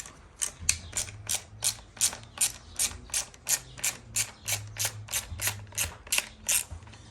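A hand ratchet backs T20 screws out of the lower panels of a 2015–2021 Ford Mustang S550, giving a close, evenly paced run of about sixteen sharp clicking bursts.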